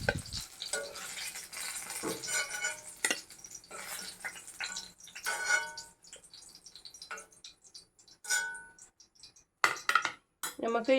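Chopped shallots and green chillies are stirred into hot oil in a pan while cooking a brinjal curry, giving a soft sizzle broken by scraping spoon strokes and clinks against the pan, with a voice speaking in places.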